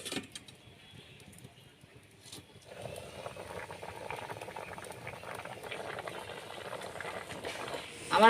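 Potatoes boiling in salted water with turmeric in a pot, a faint low bubbling that grows busier and louder partway through, then a sharp clatter right at the end.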